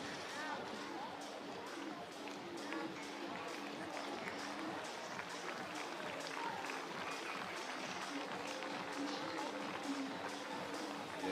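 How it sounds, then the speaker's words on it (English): Crowd applauding at a BMX European Cup race in Heusden-Zolder, a steady wash of distant clapping and crowd noise beneath a commentator's voice throughout. "big round of applause there"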